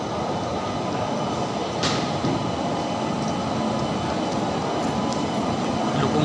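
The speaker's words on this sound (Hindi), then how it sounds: "ये सब ट्रेनों का आवागमन चालू हो चुका है।" Trains move through the railway platforms at Anand Vihar station in a steady, loud, rumbling wash of rail noise, with a couple of brief high squeals over the continuous roar.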